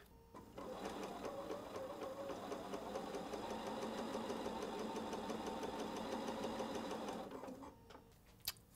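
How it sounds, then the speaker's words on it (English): A sewing machine runs a quarter-inch seam down quilting fabric, a steady rapid mechanical chatter lasting several seconds before stopping, followed by a faint click. "I'm gonna stitch 1/4 inch all the way down"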